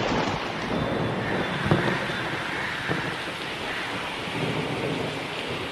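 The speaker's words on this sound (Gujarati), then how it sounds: "વરસાદ છે તે વરસી રહ્યો છે" Heavy rain pours over Ahmedabad as a loud, dense, unbroken roar, with low thunder rumbling beneath it and no voices.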